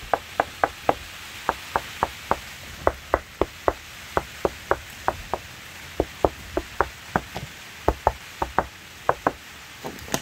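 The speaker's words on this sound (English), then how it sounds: "I don't think I have anything out here to knock on the deck with" Bare hand knocking on the deck of an O'Day 28 sailboat, a long series of sharp, close knocks in short uneven groups, hollow and woody, with no talk.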